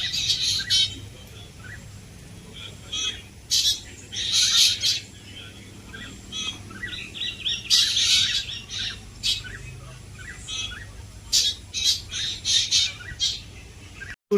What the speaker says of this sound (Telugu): ఇలాంటి పక్షులు కిలకిల రావాలి